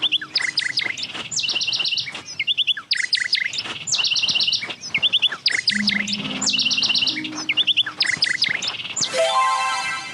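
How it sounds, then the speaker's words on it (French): Bird calls in the accessible mobile game Sonar Islands: repeated bright chirping phrases in quick bursts, ending with a short rising electronic tone. "Appuyez sur l'écran pour suivre l'oiseau."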